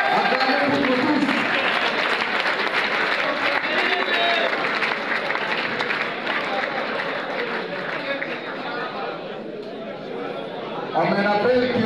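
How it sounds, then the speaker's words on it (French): Large audience at a public gathering in the DR Congo applauding and cheering, a loud sustained roar of clapping mixed with crowd voices and chatter that swells again near the end. "Acclamez pour nous tous."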